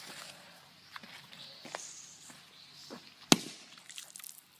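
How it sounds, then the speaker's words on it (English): A firecracker tossed into water goes off with a single sharp, loud bang partway through, amid soft rustling and footsteps outdoors. "This is a fun way to set off a firecracker."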